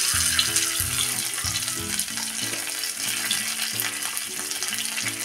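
Carom seeds and chopped curry leaves sizzling in hot oil, a dense steady crackle heard close under faint tonal background music, with no talking.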